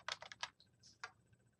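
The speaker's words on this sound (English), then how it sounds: "I'm just going to type in the word home." Typing on a computer keyboard: a quick burst of about six close, crisp keystrokes in an uneven rhythm, then quiet.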